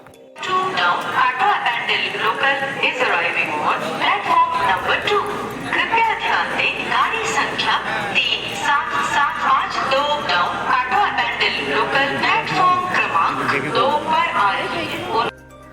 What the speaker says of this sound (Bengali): দু নম্বর প্ল্যাটফর্মে ট্রেনের অ্যানাউন্সমেন্ট হয়ে গেছে আর একবার তোমরাও শুনে নাও অ্যানাউন্সমেন্টটা